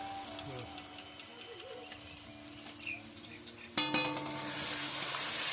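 Spices with added coriander powder fry and get stirred in a pan for a potato and pangas fish curry, a soft crackle that swells into a loud, steady sizzle partway through.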